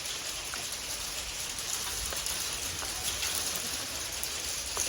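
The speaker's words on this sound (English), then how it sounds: "This is pretty big hail for us." Large hail falls steadily on a metal roof, a dense, continuous hiss of impacts with occasional sharper individual clicks, close and even in loudness throughout.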